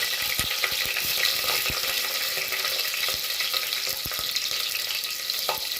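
Broken dried red chillies frying in hot oil for a Kovai-style dal rice, giving a close, continuous sizzle and crackle with scattered sharp pops and stirring knocks, and no talking.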